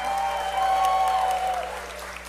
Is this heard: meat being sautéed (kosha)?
no